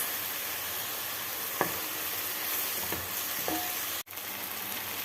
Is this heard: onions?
yes